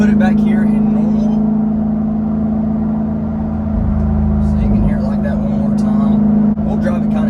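Straight-piped Jeep Wrangler Rubicon 392 cruising at about 50, a loud, steady deep exhaust drone heard from inside the cab, with a voice speaking over it.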